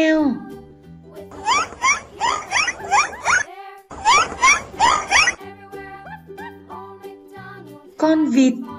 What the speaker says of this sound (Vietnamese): Cá heo.